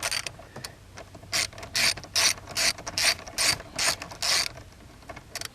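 A hand ratchet clicks in quick bursts while backing out the steering column screws on a 1989–1994 Nissan 240SX (S13), with close, loud pawl rattles separated by short pauses.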